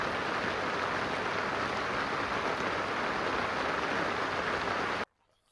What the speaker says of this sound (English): The rain has begun.